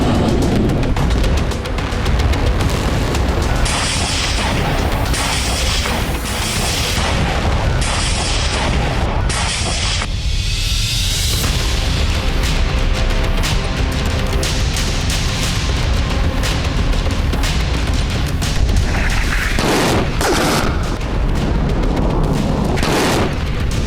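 Heavy booms and bursts of gunfire from a Middle East conflict, dense and loud throughout, with repeated blasts, crackling shots and rumbling explosions layered together.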